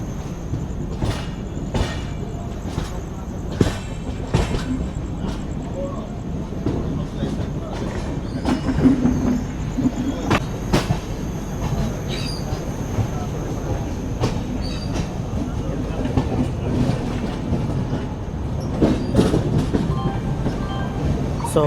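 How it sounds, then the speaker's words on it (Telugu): The Prashanti Express rolls along after pulling out of Eluru, a steady rumble of railcars with repeated clicks of wheels over rail joints and occasional squeals, heard continuously from on board. "మన ట్రైన్ ఏలూరు నుంచి అయితే బయలుదేరిపోయింది."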